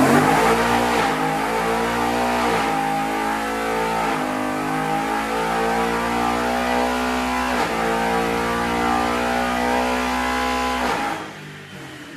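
A stock Coyote V8 swapped into a 1968 Ford F-100 runs on a dyno, a loud sustained mechanical roar rising in pitch as it pulls hard, then dropping away near the end.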